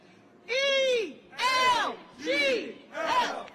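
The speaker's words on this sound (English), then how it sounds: "I love how the crowd like they start to chant and then it slowly dies" A recorded stadium crowd chants "Eagles" in four distinct rising-and-falling shouts, evenly spaced and moderately loud, with quiet gaps between each call.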